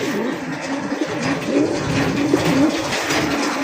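A Red Gear pigeon coos in a pigeon farm setting, a steady run of low, throaty coos close by over faint background noise.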